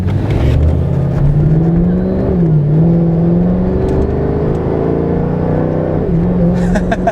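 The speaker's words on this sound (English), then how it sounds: "Guys, the way it downshifts is night and day." A Mercedes E55 AMG drives along with a steady, loud engine drone, its pitch climbing slowly and then dropping abruptly as the transmission downshifts near the end, heard from inside the car.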